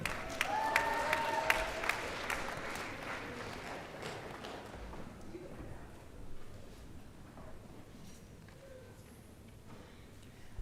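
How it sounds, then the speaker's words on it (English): At a medical school winter commencement, an audience claps for the Grand Marshal, faint and distant, with a few sharper claps early on before the applause thins out and fades into room noise. "Give God a hand clap for her."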